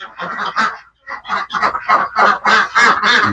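Ducks and geese on a duck farm honk and call in a rapid, loud series of overlapping bursts after a brief pause, with no talking.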